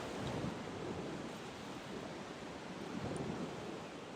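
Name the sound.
ocean waves crashing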